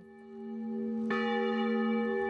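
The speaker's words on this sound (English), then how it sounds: "Bells ring out at the Chapel of Reconciliation in remembrance of another church of the same name which once stood on the site." Church bell at the Chapel of Reconciliation in Berlin ringing with a sustained, resonant tone; a single clear strike near the middle swells over the hum of the previous peal, with no voices.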